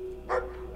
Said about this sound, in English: I don't trust that bulldog.